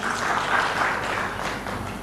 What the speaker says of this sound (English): A round of applause once again.